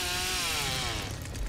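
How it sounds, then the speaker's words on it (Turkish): Chainsaw starting up in an online video game, a loud continuous buzzing whine with rising harmonics that holds steady for the whole short burst, with no talk over it. "Ooo, elektrikli testereyi çalıştırıyor."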